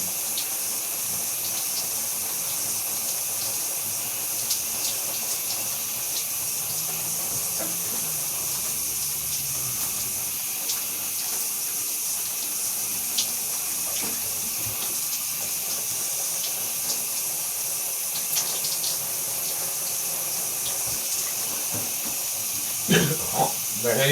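A shower runs steadily for a long stretch, giving a constant hissing spray with faint splashes and clatters underneath and occasional sharper knocks near the end.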